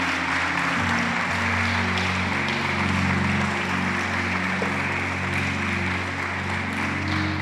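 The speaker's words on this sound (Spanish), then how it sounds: "¿Cuánto le regalamos un fuerte aplauso al Señor?" A church congregation claps together in sustained applause, a dense, even wash of clapping that holds at steady volume for the whole stretch with no talk over it.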